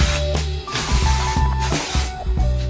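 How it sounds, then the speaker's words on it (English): Olive oil sheen spray containing coconut oil is spritzed onto hair in a few short hissing bursts, partly masked by steady background music. "I'm gonna go ahead and spray my hair with this olive oil Nourishing Sheen spray."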